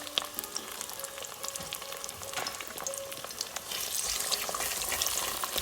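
Egg seasoned with salt, white pepper and black pepper is scrambled and fried in a pan for chilli garlic egg fried rice, giving a steady close sizzle with scattered stirring scrapes that grows louder in the final seconds.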